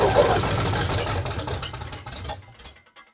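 A 1967 Ford Mustang engine, freshly re-timed, runs with a rough, uneven rumble close by, then sputters and fades out to silence within about three seconds.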